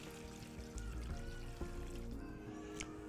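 Water poured over ingredient pieces to soak them in a kitchen, a soft steady trickle and splash running throughout, fairly faint with light clinks in the background.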